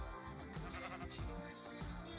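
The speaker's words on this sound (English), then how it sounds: "let me kill that sheep." Sheep bleating in the Minecraft video game, a short blocky bleat layered over steady game background sound and music, fairly close and moderately loud.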